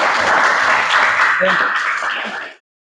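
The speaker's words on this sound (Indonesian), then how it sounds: "tepuk tangan buat Rival" Classroom applause for a student, a dense steady patter of many hands clapping together for over two seconds, close and fairly loud, with a brief voice mixed in before it cuts off abruptly.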